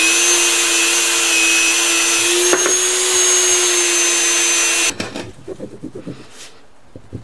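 A Dremel spinning a small polishing wheel works over an aluminum valve cover from a 1973 Honda CB750, a loud steady high whine for about five seconds, then the motor cuts off, leaving faint scattered handling clicks.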